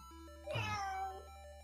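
A single recorded cat meow played from a soundboard during a guitar session rises and falls over about a second, moderately loud against a faint steady tonal hum.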